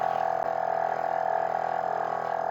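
Gobege air compressor running under load while building pressure, with a steady close mechanical hum and a fast rattling pulse throughout.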